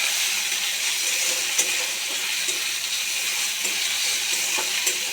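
Onions and potatoes fry together in a pan over high heat, giving a steady, dense sizzle with faint crackles and a few louder pops, heard close and alone.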